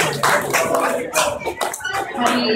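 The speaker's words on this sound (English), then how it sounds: "Give them another round of applause." An open-mic crowd claps and cheers after a guitar act in short uneven bursts, with some voices mixed in, swelling and dipping over a couple of seconds.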